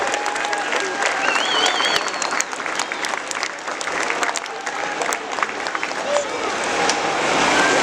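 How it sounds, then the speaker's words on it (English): Crowd at a fire brigade open day applauding fire recruits after a car fire demonstration, steady loud clapping from many hands outdoors with some crowd murmur underneath. "Let's give them a big round of applause."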